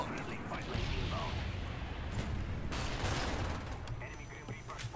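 Shotgun fire in the PC version of Call of Duty: Black Ops, repeated shots and chaotic combat noise under a steady wash of game sound, fairly quiet overall and without clear gaps.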